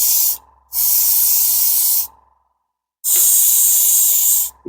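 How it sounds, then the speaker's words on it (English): An airbrush sprays grey paint onto the plastic trucks of an HO scale GP38-2 model locomotive, two close, loud bursts of hissing spray separated by a silent pause. "just using that same grey, going to give them a nice liberal coat all over."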